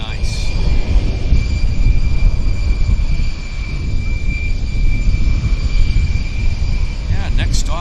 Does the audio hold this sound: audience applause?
no